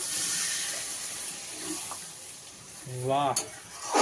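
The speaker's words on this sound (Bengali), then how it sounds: "এবারে একটু জল মিশিয়ে দেবো, খুব বেশি জল দেবো না" Water poured into hot, sizzling fried masala for a fish curry sets off a loud, steady hiss and crackle in the pan, with a short burst of stirring and bubbling near the end.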